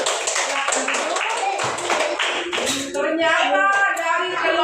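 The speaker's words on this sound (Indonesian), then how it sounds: "Silakan tepuk tangan untuk kelompok 4." Classroom applause for a student group, with children clapping together at close range for several seconds before the claps thin out as young voices chatter underneath.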